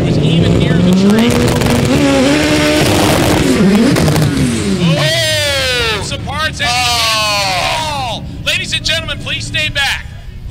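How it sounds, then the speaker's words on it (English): A drag racing car at Sick Week sits on its two-step launch limiter, a loud, rough, crackling engine buzz heard close under excited announcer commentary over a PA. "Levenstad getting all over the two-step before the Mustang on the right-hand side was even near the tree."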